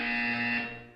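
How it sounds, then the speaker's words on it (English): A buzzer from the video game Portal 2 sounds as one steady, loud electronic tone held for most of a second, fading near the end, then a brief chirp at the very end. "You will hear a buzzer."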